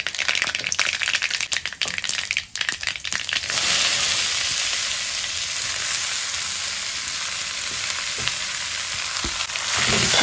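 Mustard seeds splutter and crackle in hot oil while Kerala-style kodithoova (nettle leaf) thoran is made; sharp pops come first, then a dense, steady, close sizzle fills the pan.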